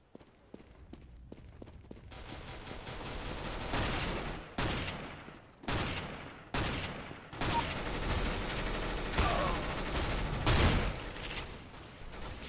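Gunfire in Counter-Strike: Global Offensive, a shotgun in play, with repeated loud blasts over a busy game background, several sharp shots spaced a second or so apart.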